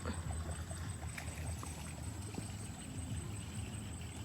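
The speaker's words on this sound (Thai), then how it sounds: "น้ำไหลออกจากลำพเนียงนะคะ น้ำล้นแล้ว" Water overflowing and running out of a channel, a steady broadband wash of flowing water with continuous low rumble, close and fairly constant throughout.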